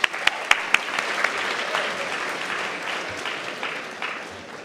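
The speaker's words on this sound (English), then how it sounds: "Let's give a round of applause," Applause from an audience at a hackathon opening ceremony, a few sharp claps at first, then dense, steady clapping that fades slightly toward the end.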